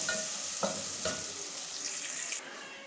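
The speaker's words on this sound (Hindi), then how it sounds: "तेल हमारा गर्म हो चुका है, हम इसमें प्याज शामिल करते हैं।" Sliced onions drop into hot oil in a pan and sizzle with a steady bright hiss, a few soft clatters early on, then the frying fades slightly near the end.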